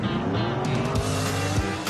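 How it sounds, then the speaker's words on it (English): A classic muscle car engine roars loudly with screeching tire squeal and skidding, the engine note sweeping up and down through a continuous, dense burst. "Or even classic car muscle."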